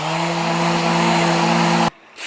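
A power sander runs on an epoxy serving board with 100 grit paper, giving a loud, steady whine with a droning hum that cuts off abruptly near the end before a brief restart.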